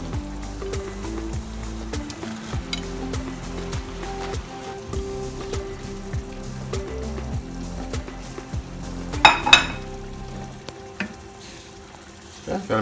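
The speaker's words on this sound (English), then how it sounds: "got my water, it's boiling." Fresh pasta cooking in a pot of boiling water on a home stove, a steady close bubbling and sizzling hiss with a few clinks of a spoon stirring near the end, no talking.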